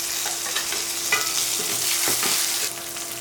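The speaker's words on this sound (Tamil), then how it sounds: "அப்போ சின்ன கட் பண்ணி வச்ச சின்ன வெங்காயத்தை சேர்த்துக்கலாம்" Chopped small onions and curry leaves fry in a pan for Madurai-style chicken chukka, a constant close sizzle with a few scraping stirs, no talking over it.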